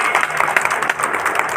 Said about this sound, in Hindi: तालियां बजा करके स्वागत करिए।